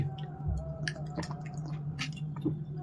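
Close, soft wet chewing of bread with milk at a pre-dawn Ramadan meal, with irregular squishy mouth sounds and small clicks over a low background hum.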